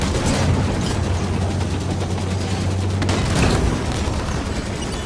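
Sustained gunfire and booming blasts around a Scorpion tank in the Halo 5 Guardians game, steady and loud throughout with a low engine hum beneath.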